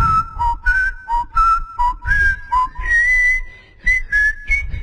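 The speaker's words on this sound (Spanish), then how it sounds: "A ver, silbalo de nuevo." A person whistles a song melody up close, a clear run of bright sliding notes phrased in short bursts with brief pauses between them, loud and alone.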